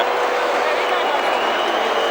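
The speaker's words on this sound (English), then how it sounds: "Booing you can hear is because" Loud, dense crowd noise fills a football stadium during the 2016 Copa America semifinal between the USA and Argentina, with steady booing and jeering sustained throughout without a break.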